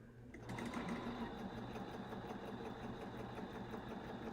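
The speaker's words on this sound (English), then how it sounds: "I just love the sound of a good sewing machine" A sewing machine runs steadily and loudly for about four seconds, its needle hum holding a constant pitch, with a quilting project being pieced together.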